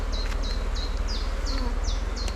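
Honeybees buzz around an open hive while it is being split into a divisible hive, a close, continuous drone with small repeated chirping tones on top.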